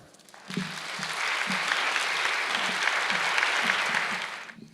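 Audience applause welcoming Dr. Timothy Keller to the stage at a talk on questioning Christianity, a sustained, dense burst of clapping from a large crowd that swells quickly, holds steady for about four seconds, then fades out.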